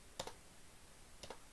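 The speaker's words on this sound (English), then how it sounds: "instead I'm going to use the keyboard enter button" Two soft, separate computer keyboard key presses, the Enter key struck twice about a second apart, each a faint double click heard close in a quiet room.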